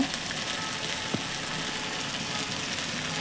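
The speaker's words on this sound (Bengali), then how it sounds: "কড়াইতে তেল দিয়ে দিয়ে দিচ্ছি পটলের ভেতরে যে শাঁসটাকে পেস্ট করে রেখেছি তখন দিয়ে দিলাম" Pointed gourd pulp paste frying in hot oil in a wok, a steady close sizzle filling the whole stretch with one faint clink partway through.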